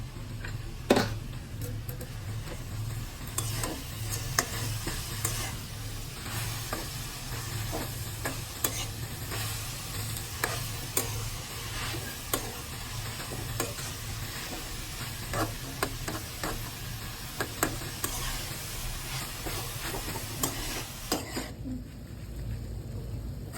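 Methi bhaji, fenugreek leaves cooking on a low gas flame, gives a faint, steady sizzle, punctuated by scattered ticks and light scrapes throughout, ending in near quiet.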